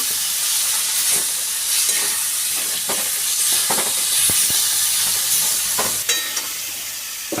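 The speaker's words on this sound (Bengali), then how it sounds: "মশলা আলু কচু সব আবার একসাথে ভাজা হয়ে গেছে" Potatoes and taro fry in a pan with turmeric, chilli powder and ground spice paste, a dense steady sizzle broken by scraping stirs and a few utensil clinks.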